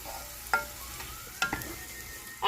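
Onions frying in a pan for sausage and potato soup, stirred now and then: a soft, even sizzle broken by a few sharp scraping clicks of the utensil, close and fairly quiet.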